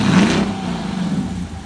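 2017 Dodge Durango R/T with Hemi V8 and rear mufflers and resonators deleted, one quick rev settling back toward idle, close and loud with no voices.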